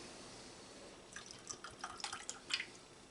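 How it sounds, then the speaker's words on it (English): Apple cider vinegar is poured into a bowl, a faint, close trickle of liquid with small splashing drips that start partway through after quiet room noise. "Poured a little too much vinegar in there."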